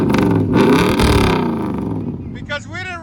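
Cammed LT1 in a 1994 Chevy 1500 with true dual exhaust, long-tube headers and Flowmaster mufflers, giving a loud, close, lumpy rumble that swells briefly and then eases off, with people talking near the end.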